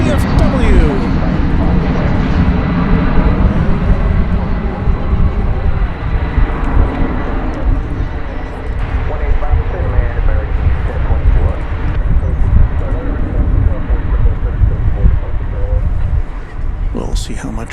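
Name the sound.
loaded Boeing 747 taking off from runway at DFW Airport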